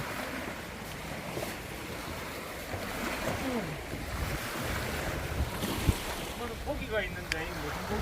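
Steady wash of surf and wind on a Jeolla-do coastline in South Korea roars continuously, with gusty microphone rumble and faint scattered sounds over the surge of the sea.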